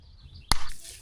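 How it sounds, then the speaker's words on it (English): A single sharp hand clap rings out once in a backyard camping setting, loud and close, followed by a short fading tail and faint background noise. "I'm going to clap my hands"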